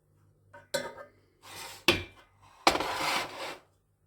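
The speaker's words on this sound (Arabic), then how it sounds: "وغنحاول اخواتي انني نقطع الخضره ديالنا" Vegetables chopped on a board for a red lentil winter soup: a few separate clattering knock-and-scrape bursts of knife and utensils, fairly close, with quiet gaps between them and no talking.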